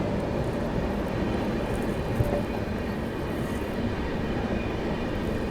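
The New Delhi–Ballia Superfast Express passes close by, a steady, loud rumbling roar of wheels and carriages that holds without a break throughout.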